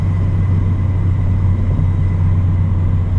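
Steady, loud engine drone from a car fitted with an aftermarket intake under throttle, dominated by deep low rumble with a constant level throughout, no talk.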